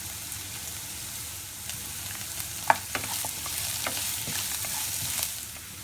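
Onion, garlic and curry leaves sautéing in a pan for a Chettinad okra mandi, a steady sizzle with scattered crackles and stirring clicks, one sharper tap midway.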